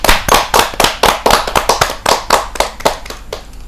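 Loud, brisk clapping from a small audience at a Hindi kavi sammelan (poets' gathering) welcoming a poet to the stage, a dense run of sharp close hand claps with no talk over them.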